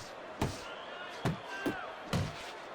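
Boxing headshot punches in the Fight Night Champion video game, four hard thudding impacts spaced irregularly, loud and close, with a faint crowd murmur underneath.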